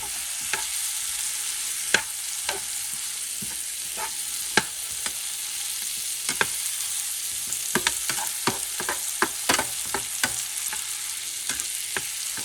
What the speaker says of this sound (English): Let me add the garlic now, because I know it's not going to burn. Let's spread it around.